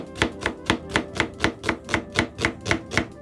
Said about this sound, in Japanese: 玉ねぎは薄くスライスしていきます